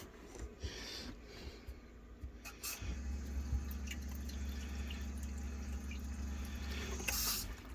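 After a repair, water drains steadily as a low continuous rush that grows fuller partway through, with a few faint drips and knocks over it.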